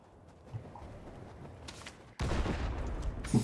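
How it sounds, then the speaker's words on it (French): A faint thump, then a sudden heavy explosive video game cannon blast with rumbling debris, loud and close after a quiet stretch. "boulet de canon sur nous."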